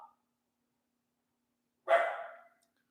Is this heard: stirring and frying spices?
no